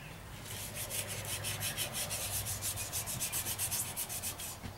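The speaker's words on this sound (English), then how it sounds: "why don't you get going and start wet sand?" A car body is wet-sanded by hand, the paper rubbing back and forth in an even rhythm of roughly twenty close, hissing strokes, with no talking over it.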